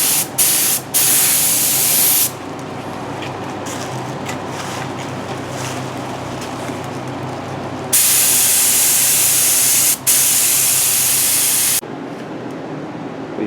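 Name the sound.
spray gun spraying gel coat on boat swim grid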